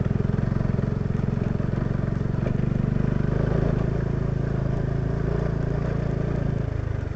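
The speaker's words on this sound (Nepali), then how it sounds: "म त्यसलाई डट बाइक जसरी चलाउँछु" A motorcycle ridden hard like a dirt bike over a rough, slippery road in Bhaktapur, its engine droning steadily and loudly throughout with a constant low rumble, close to the microphone.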